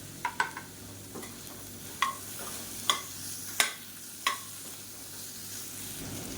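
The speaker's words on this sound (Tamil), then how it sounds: "காலிஃப்ளவர் சேர்த்து நல்லா வதக்கியாச்சு" Sharp scraping clinks of a spatula against a pan recur irregularly over a soft, steady sizzle of cauliflower sautéing with tomato.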